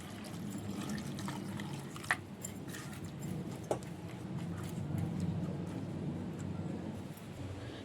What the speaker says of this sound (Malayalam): ഇനി നമുക്ക് കുറച്ച് വെള്ളം ഒഴിച്ചിട്ട് ഒന്ന് കുറച്ച് വേവിക്കാം മാങ്ങ